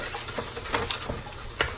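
Vegetables for a shrimp and sausage gumbo sizzle steadily in a hot pan, with a constant crackling hiss and intermittent scraping as they are stirred. No one speaks.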